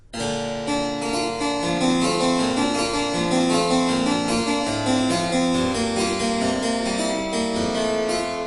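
Harpsichord playing two interweaving melodic lines from Couperin's Les Baricades Mystérieuses, one higher and one lower on separate manuals, steady and bright with plucked, ringing notes and no talking.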